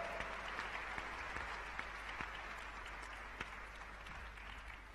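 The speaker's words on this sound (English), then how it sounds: "please welcome her with a warm round of applause." A summit audience in a large conference hall gives a fairly quiet but continuous round of applause as a speaker is welcomed, with scattered sharper claps standing out from the steady patter and no voices heard.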